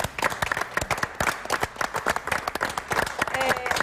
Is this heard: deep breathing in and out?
no